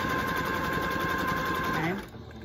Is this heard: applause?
no